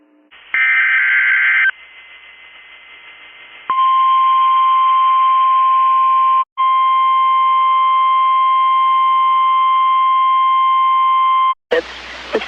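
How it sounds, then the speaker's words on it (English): A NOAA Weather Radio warning alarm test: a short two-tone burst, then a long steady loud electronic tone lasting several seconds, briefly broken once, ending abruptly. "The signal you just heard was our weekly test of the NOAA Weather Radio Warning Alarm System."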